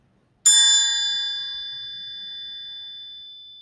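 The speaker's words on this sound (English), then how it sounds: "Now I have a triangle. This triangle is made out of metal, and metal vibrates for a longer time." A metal triangle is struck once, giving a sharp bright ding that rings on alone and decays slowly over about three seconds in a quiet room.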